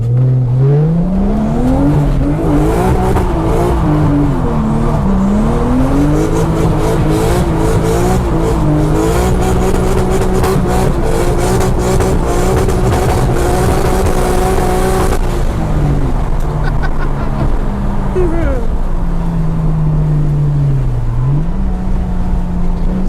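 Ford Focus MK3 RS in drift mode, engine revving up and down with rising and falling pitch while tires squeal through slides, loud and close, continuous with no speech.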